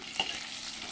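Potatoes frying in oil in a pan with a pinch of salt, a steady close sizzle with one brief clink of a utensil near the start, no voices.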